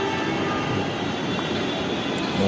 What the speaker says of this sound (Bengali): ট্রেন আমাদের রেখে ট্রেন মতিঝিলের দিকে চলে যাচ্ছে